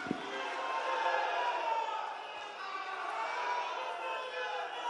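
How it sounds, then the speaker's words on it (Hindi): A large outdoor rally crowd in Rewa applauding and cheering to welcome Amit Shah, a steady wash of clapping and voices sustained throughout, fairly loud and dense. "जोरदार तालियों के साथ अभिनंदन करें आदरणीय श्री अमित"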